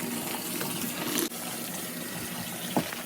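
Steady rushing of warm water from a tap, continuous and close, with a brief clink partway through.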